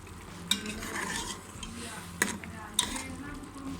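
Lamb karahi sizzles steadily in a pan as the meat is stirred dry with spices, with a few sharp scrapes and clinks of the utensil against the pan.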